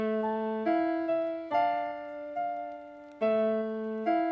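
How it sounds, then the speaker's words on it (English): Piano melody in a dark UK drill beat made in FL Studio: sustained tonal chords struck one after another, each decaying before the next, played alone with no voices. "Then I got this piano."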